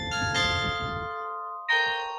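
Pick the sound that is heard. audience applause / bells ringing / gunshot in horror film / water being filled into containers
bells ringing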